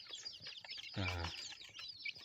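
Red junglefowl, wild chickens kept in a flock in Udon Thani, Thailand, cluck close by with one louder, brief call near the middle, over constant high chirping and twittering from many other birds.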